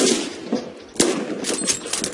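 Video-game gunfire rattles in dense broadband bursts, with sharp shot transients near the start, middle and end over a continuous noisy battle bed.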